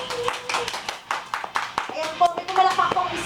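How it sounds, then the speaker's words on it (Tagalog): Scattered hand claps from a small crowd at a 2013 gay pageant contest, a few sharp claps spaced irregularly over busy background chatter and voices. "Ayan po, may pumalakpak pong isa."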